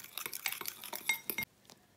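A spoon stirs and scrapes an egg, baking powder and flour in a bowl, quick close clinks and scrapes in a brisk rhythm that stop abruptly near the end.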